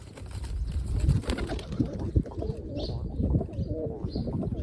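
Pigeons coo in soft, low, rolling calls close by, several overlapping phrases against a busy background of rustling and other faint bird chirps.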